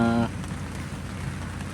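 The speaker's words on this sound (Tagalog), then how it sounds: "Hindi namin matrabaho kasi umuulan." Rain falls steadily on a work site with I-beams and pipes, a soft continuous patter after a brief tonal sound at the very start.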